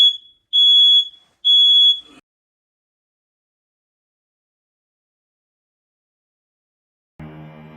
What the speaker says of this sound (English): and there's my smoke alarm.